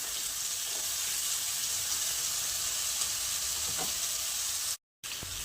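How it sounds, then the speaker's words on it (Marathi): Potatoes and peas being sautéed in a pan, a steady close sizzle and crackle that runs almost continuously, broken only by a brief silence near the end. "आता 2 ते 3 सेकंद आपण परतून घेणार आहोत। छान असं परतून घ्यायचं आपल्याला।"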